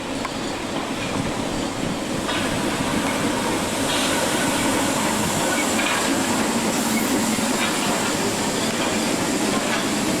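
A Class 313 electric commuter train rolls steadily past nearby as it arrives, a continuous rumble with faint rhythmic clatter from the wheels and no voices.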